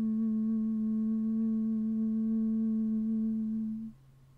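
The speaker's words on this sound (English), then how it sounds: "exhale through your nose while softly and gently humming at a comfortable mid-range pitch" Soft, steady nasal humming at a comfortable mid-range pitch, a bee-breath breathing exercise, held as one continuous tone for about four seconds before it fades out, with no talking over it.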